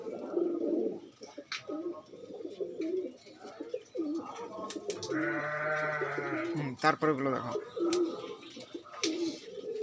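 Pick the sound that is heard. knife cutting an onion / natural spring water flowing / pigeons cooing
pigeons cooing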